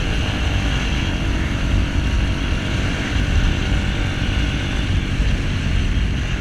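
A loud motorcycle with a hollowed-out exhaust drones steadily and close by, with a rough, raspy exhaust roar that holds throughout without pause.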